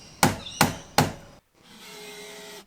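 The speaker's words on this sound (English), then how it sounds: "You meant to use your drill as a hammer too, right?" Three sharp, evenly spaced knocks as a drill is used as a hammer on wood, in quick succession, then a brief silence and a low steady hum.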